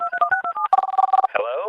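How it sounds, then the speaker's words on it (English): A rapid run of about a dozen touch-tone beeps as a telephone number is dialed, loud and close, followed by a short vocal sound at the end. "a strange urge will come over me to pick up the phone and dial"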